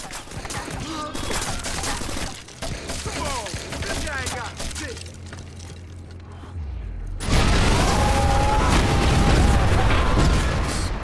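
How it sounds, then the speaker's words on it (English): An explosion in the video game Watch Dogs erupts with a loud, dense roar of noise after several seconds of clattering gunfire and mechanical game effects, and the blast rumbles on to the end. "Explosion."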